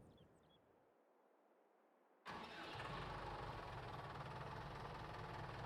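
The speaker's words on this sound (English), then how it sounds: "I haven't started this tractor up in a while, actually. I hope it's alright." Tractor in Farming Simulator 22 cranks to life after a quiet start, then settles into a steady, loud, rough mid-pitched idle that holds for the rest of the clip.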